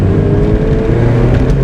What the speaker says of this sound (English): Hear my awesome eBay muffler.